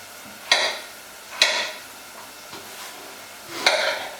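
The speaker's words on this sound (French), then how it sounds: "Je le coupe en petits cubes" A knife cuts pumpkin into small cubes, giving three or four distinct, well-spaced chops against a board, close and crisp, with quiet pauses between strikes.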